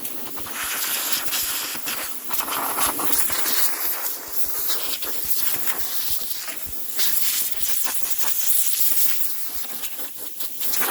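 Compressed air from a workshop compressor hose blasting debris off a John Deere X120 lawn mower cutter deck, a loud steady hiss with brief surges that runs throughout with no talking.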